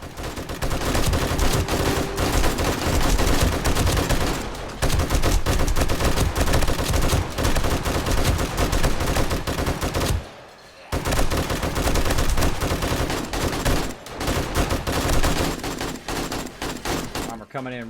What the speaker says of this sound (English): these guys are shooting at me